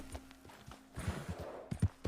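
Hooves of a video-game horse clop along in a steady, fairly close rhythm, then a thicker flurry of impacts as the horse jumps, ending in two heavier landing thuds with no talking over them.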